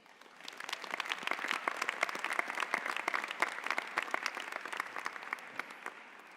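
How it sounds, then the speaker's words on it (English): Graduates and guests at a business school convocation ceremony applaud, the clapping swelling in quickly and sustaining as a dense, moderately distant crowd sound. "let us just give ourselves a nice round of applause"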